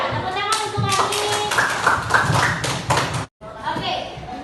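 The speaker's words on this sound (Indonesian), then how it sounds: "Tepuk tangan untuk kami." A short burst of applause from a small group, clapping over children's voices in a junior high school class, then a brief cut and more chatter.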